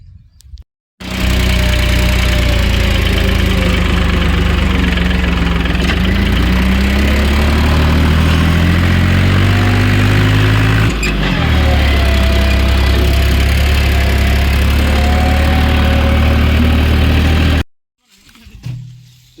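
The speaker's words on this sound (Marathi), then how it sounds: "सकाळ सकाळी आपल्या ट्रॅक्टरला ट्रॉली जोडल्या बघा" A tractor with a trolley hitched on runs steadily at a loud, close idle through a sugarcane harvest, its low droning engine holding for most of the stretch before cutting off near the end.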